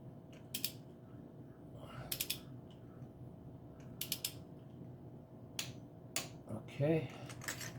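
A torque wrench ratcheting while working on spark plugs of a 2016 Lexus NX200t, sounding as short clusters of quick metallic clicks spaced a second or two apart, close-up and quiet, with a brief voice near the end.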